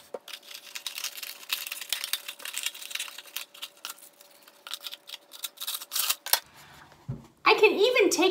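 Scissors snip through wax paper around the rim of a papier-mâché bowl in a series of crisp, uneven cuts and crinkles, close by, and a voice is heard near the end.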